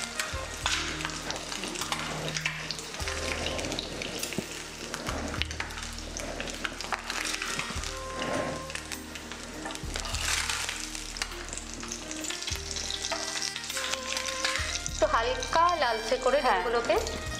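A duck egg sizzles and crackles as it fries lightly in a pan, a steady close frying hiss with occasional clinks and a voice speaking over it at intervals.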